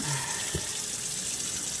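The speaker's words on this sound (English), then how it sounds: "dump out all your bad water" Dirty water dumped out while cleaning brass, a short steady splash and pour of water into a sink, close and continuous for under two seconds.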